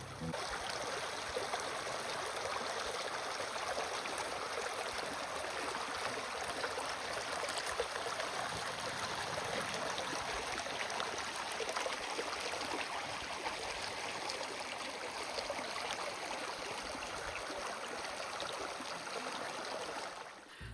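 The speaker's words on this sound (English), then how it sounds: "stand next to a creek and just soak in the sounds" A forest creek flows in a steady, continuous rush and babble of water, close and even throughout, with no voices.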